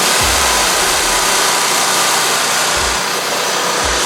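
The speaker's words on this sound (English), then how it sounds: "now that we got the wheel spinning, I can go ahead and turn this gas up." A stump grinder's gas engine runs loud and close with its cutting wheel spinning, giving a steady, dense roar as the throttle is opened up.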